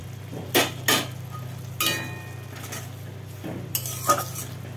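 Prawns stirred in a pan with a utensil, a few sharp scraping clinks spaced over a low steady background hum, with only faint sizzle and no voices.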